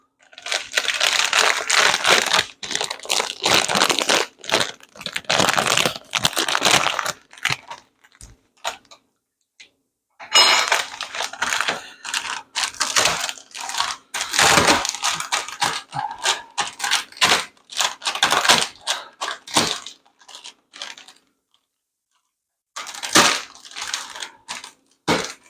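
A package of cheese ramen noodles being smashed by hand, bursts of crunchy crackling and crinkling of the wrapper, loud and close, broken by short silent pauses.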